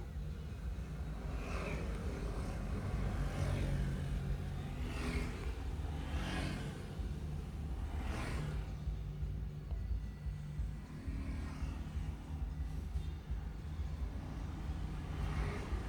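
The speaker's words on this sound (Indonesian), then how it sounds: "Jadi masih banyak mobil-mobil proyek yang lewat karena masih proses renovasi." Construction vehicles for a lake renovation roll past along a rural road between rice fields, a steady near engine rumble with several swelling passes every couple of seconds.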